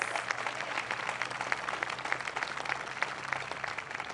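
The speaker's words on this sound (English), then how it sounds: "Let's give him a rousing applause." Steady audience applause fills a library dedication and ribbon-cutting ceremony, a dense crackle of many hands clapping at an even level, with no voices over it.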